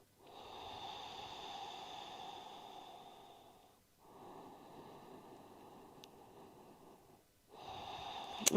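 Slow, deep breathing during a calm yoga stretch: long drawn inhales and exhales, each lasting several seconds with brief pauses between, soft and close against a quiet background, with no speech.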